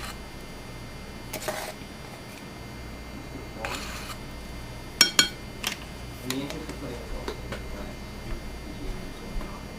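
A spoon clinks and taps against a bowl in a few scattered, sharp knocks while baking powder and salt are mixed into a creamed batter, with a quiet room behind.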